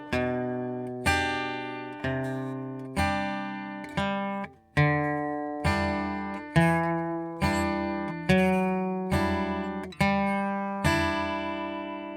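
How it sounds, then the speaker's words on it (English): Acoustic guitar alternating a plucked bass note with a strummed chord in a steady boom-chuck rhythm, bright and close. "we boom a root note or a bass note, and we chuck or strum the bottom part of the chord"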